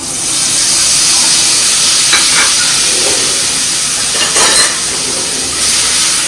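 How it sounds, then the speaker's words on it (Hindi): Cumin seeds and a homemade spice paste sizzling in hot oil in a home kitchen, a loud steady hiss and crackle that runs continuously, with brief sharper spatters partway through and no voices. "जीरे के बाद में जो ये मैंने पेस्ट बनाया था अब इसको डाल देंगे"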